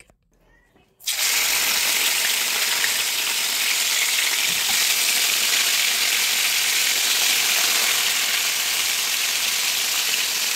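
Hilsa fish frying in oil for a Bengali New Year meal, a steady, dense sizzle that starts abruptly after a brief quiet moment and holds evenly loud and close throughout, with no talk.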